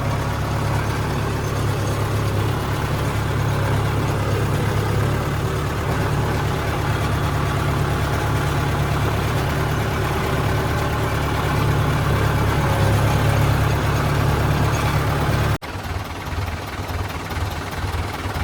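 A tractor engine idles steadily at close range with a deep, constant rumble, then drops suddenly to a lower, rougher throb near the end.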